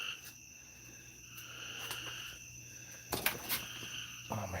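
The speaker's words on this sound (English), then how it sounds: "there's some frogs. We got frogs now." A night chorus of frogs croaking and chirping steadily, mixed with insect trills, with a few louder, closer calls near the end.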